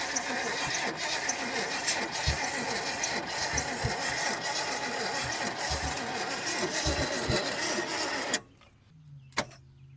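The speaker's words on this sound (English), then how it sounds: "We kicked the motor over just a little bit" The engine of a 1972 GMC truck that sat for over thirty years cranks over with a steady rhythmic churn for about eight seconds, then cuts off abruptly, leaving quiet with a brief knock.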